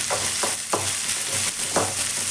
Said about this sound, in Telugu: ఇలా వేగనివ్వండి ఆనియన్స్ తొందరగా వేగడానికి